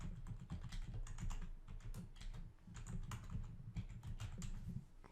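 A store address is typed on a computer keyboard in a quick, continuous patter of soft key clicks, close and fairly quiet, with no voices.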